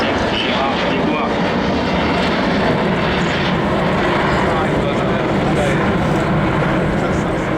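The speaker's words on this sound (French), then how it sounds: "Voici the 380 flown for you today by Mr. Christophe Gaille" An Airbus A380 roars loudly overhead at the Paris Air Show, its dense, steady engine rumble filling the whole stretch, with a voice faintly audible beneath.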